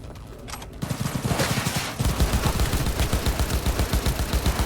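Rapid bursts of gunfire in the video game Cyberpunk 2077: a sparse opening, then a dense, steady automatic volley that keeps going, loud and close, with no talking.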